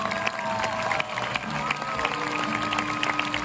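A crowd at a medieval festival in Andilly, France bursts into warm applause mixed with cheers and scattered shouts, steady and close for the whole stretch.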